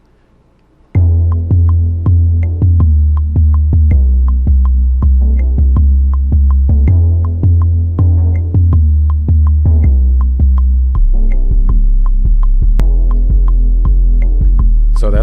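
Low 808 bass notes played on the pads of a Maschine MK3, after a quiet start a loud, deep, sustained booming bassline repeats in a steady rhythm with faint clicky percussion on top.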